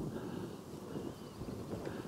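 Spring wind gusting past the microphone outdoors, a soft, continuous low rumble and hiss that stays faint and steady for two seconds with no voices.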